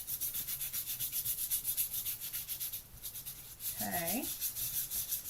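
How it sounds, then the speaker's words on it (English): Steady back-and-forth rubbing of a sanding block on a paper card, repeated strokes in an even rhythm, with a brief spoken word near the end. "You have a sanding block or a nail file."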